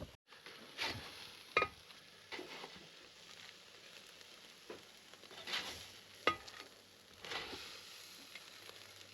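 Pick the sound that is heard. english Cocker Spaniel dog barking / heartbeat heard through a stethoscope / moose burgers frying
moose burgers frying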